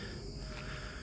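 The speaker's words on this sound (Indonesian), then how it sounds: "ada suara jangkrik" Crickets chirp before dawn at 5 a.m., a faint, steady, continuous trill in the dark, with no other sounds breaking through.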